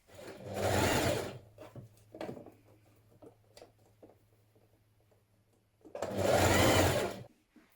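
A sewing machine stitches a sleeve into a dress in two loud, steady bursts, one near the start and one near the end, with a quiet gap of faint handling noise between them.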